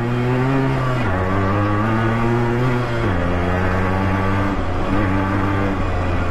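A Yamaha RX100 motorcycle engine revs hard and close, its buzzing pitch climbing in several stepped surges.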